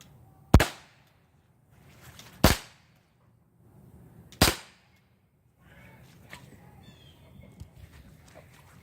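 Umarex Glock 19 BB gun firing three sharp, loud pops about two seconds apart, each crack standing alone in near silence, followed by faint clicks and handling noise.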